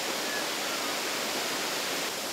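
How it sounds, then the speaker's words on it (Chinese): A waterfall at the end of a forest trail at Mayl'ux in Atayal country sends up a steady, close, broadband rushing roar that stays even and unbroken throughout. "这就是我们的瀑布啦。"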